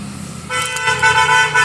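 Vehicle horns honk out over a busy main road in Digha during light rain, a low traffic rumble underneath, then a loud, sustained blare with several overlapping toots for over a second.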